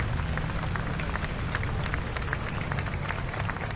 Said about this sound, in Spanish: Asistentes que quisieron expresar su gratitud con aplausos.